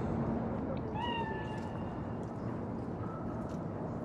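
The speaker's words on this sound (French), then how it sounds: "Du calme, c'est qu'un chat." A cat meows in Cyberpunk 2077: one drawn-out call rising and falling, then a quieter second cry a moment later, both set against a constant low ambient drone with no talking.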